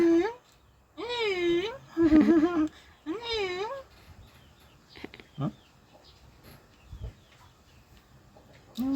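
Chickens cluck and cackle in repeated loud bursts close by, alternating with someone speaking Thai over quieter rustling farmyard background.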